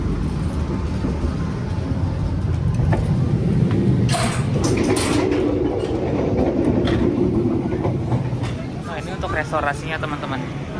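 An Argo Dwi Pangga stainless steel new-generation executive-class passenger train rolls along rails, a continuous low rumble with faint clacks and rattles, while a voice talks over it.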